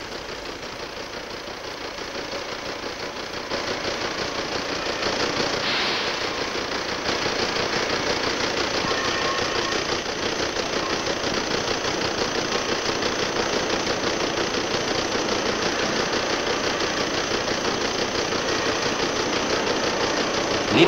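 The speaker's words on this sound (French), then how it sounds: "les ateliers d'usinage." Heavy belt-driven machine tools in a 1938 Citroën car factory machine shop run steadily for the whole stretch, a dense mechanical drone with rapid rhythmic knocking that grows slightly louder early on.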